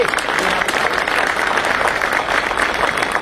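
An audience at a Bar Council of Delhi lawyers' welfare symposium gives steady, loud applause to Delhi Chief Minister Atishi, a continuous wash of many hands clapping throughout.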